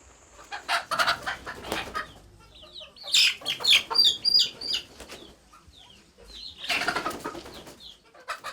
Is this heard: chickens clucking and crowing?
yes